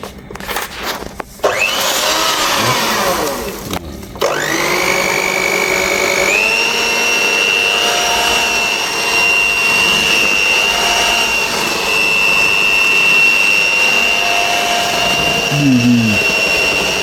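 An electric mixer whips cake batter made with eggs, a loud, steady motor whine that starts up after a few bumps and runs continuously at close range.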